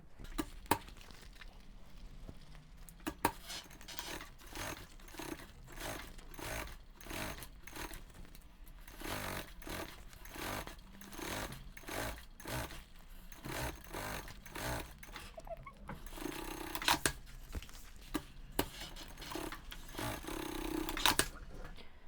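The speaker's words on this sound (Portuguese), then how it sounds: "eu vou passar uma costura na beiradinha" A sewing machine runs along the lining edge of a thermal lunch bag, its rapid needle thumps pulsing in short repeated bursts with small pauses and faint handling clatter between runs.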